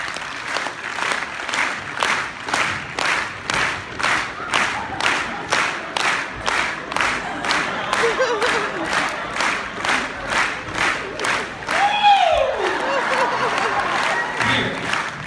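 Concert audience at a show claps together in a steady, even beat, loud and sustained, with scattered cheers and a short vocal whoop rising over the rhythm toward the end.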